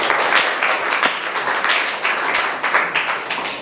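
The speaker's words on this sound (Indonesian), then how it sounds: "Tepuk tangan untuk Asnani." Schoolchildren in a classroom clap for a classmate after a Quran recitation, a lively burst of many hands with distinct sharp claps, steady and fairly loud.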